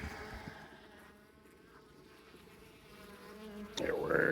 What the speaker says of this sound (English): Oh, there's a little natural bee, or a native bee.